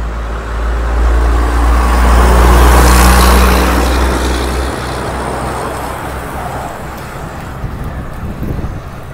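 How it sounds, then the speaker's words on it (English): A truck passes close by on a road, a loud low rumble swelling and then fading away, heavily mixed with wind buffeting the microphone of a cyclist at the roadside. "As soon as this truck gets by us."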